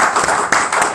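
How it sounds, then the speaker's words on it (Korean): Brief burst of congregational applause in a Korean church service, a dense close patter of many hands clapping for about a second. "감사의 박수를 드리도록 하겠습니다."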